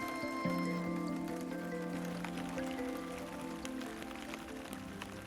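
Rain falls steadily over a Vietnamese lotus-farming countryside where farmers keep working, a soft even patter with faint drips and a low background hum, no voices.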